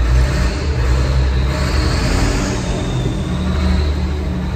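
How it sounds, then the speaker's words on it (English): A heavy old David Brown tractor engine, worn and due for rebuild, rumbles loudly close by, its low drone swelling and easing as it revs, with no voices present. "Sounds a beast, this tractor."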